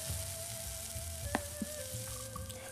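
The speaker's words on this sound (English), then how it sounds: "And then you're going to add in the garlic, and then you're going to stir fry it for about, I would say 10-15 seconds" Garlic and shallot stir-frying in a pan for a Vietnamese steamed rice layer cake, a steady soft sizzle with a sustained tone running through and a few brief clinks of utensil on the pan.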